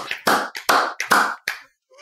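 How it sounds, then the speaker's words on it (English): Audience members clap together on a count of three in a few sharp, loud bursts of collective clapping about half a second apart, then the sound cuts out into near silence. "if you all want to clap on the count of 3"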